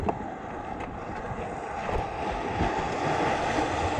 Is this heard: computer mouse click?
no